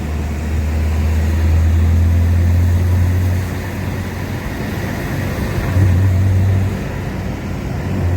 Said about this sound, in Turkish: Çok güzel devir alıyor rampaya doğru